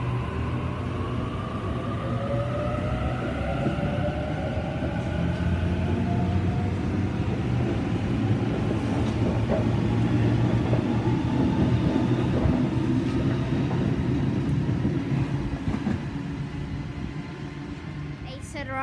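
A train set pulls into a station at Padstow, its steady, loud rumble and rising wheel squeal holding for nearly twenty seconds, with faint voices under the noise.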